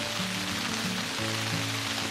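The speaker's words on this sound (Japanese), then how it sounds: "みぞれになってきた" Steady hiss of rain and sleet falling at a lakeside campsite at Oku-Biwako in cold wet weather, an even wash of noise with a low tonal hum underneath.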